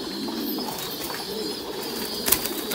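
Thai Titan pigeons coo softly and steadily in a low rolling drone close by, with a brief flutter or rustle near the end and a constant background hiss.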